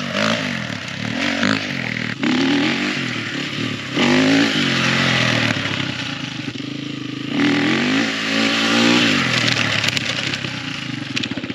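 A motorcycle revs hard during a wheelie attempt at Queensland Motor Park, its engine note rising and falling in repeated surges, loud and close throughout with some scraping clatter.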